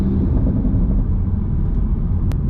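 Low steady engine and intake rumble heard from inside a sports car, either an A90 Supra or an S550 Mustang GT, cruising with the windows up, a dense droning hum with no voices.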